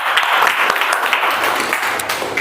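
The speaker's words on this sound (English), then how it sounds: "Give a big round of applause for him." A meeting audience claps steadily throughout, a dense wash of applause with no pause.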